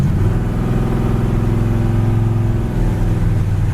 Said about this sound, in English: It's got a nice sound and dual exhaust.